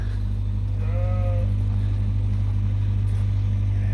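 Sheep ewes in a farm barn give one short bleat partway through, heard over a loud, steady low hum and background noise, with no voices.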